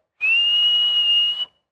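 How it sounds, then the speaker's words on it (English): A person whistles into a microphone, holding one clear, steady pure tone for just over a second. It starts and stops sharply and is heard alone, with no background sound. "that's just me whistling."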